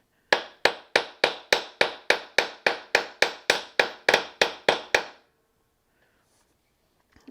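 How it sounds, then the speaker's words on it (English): A hammer strikes a sterling silver bail being forged, about fifteen sharp, ringing metallic blows in a steady, even rhythm, close and loud, then stops and leaves near silence. "So we're going to hammer it for a little bit, and then we'll have to anneal it."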